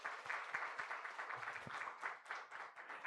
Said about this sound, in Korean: 우리 다시 한번 반갑다고 우리 박수 한번 칠까요?